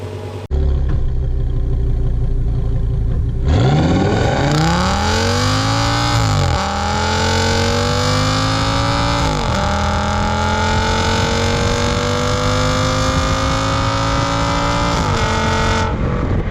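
An Audi S8 fitted with a zip tie exhaust mod starts up, settles into a deep burbling idle, then revs and accelerates with rising and falling loud engine tones, heard alone and close.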